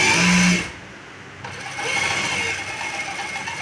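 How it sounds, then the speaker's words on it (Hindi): A sewing machine stitches the hem of a shalwar in a short, steady whirring burst at the start, then stops, leaving quiet fabric handling. "ये सिलाई जब भी आपने लगानी है खींच के लगानी है, इधर से दोनों हाथ बराबर खींच कर।"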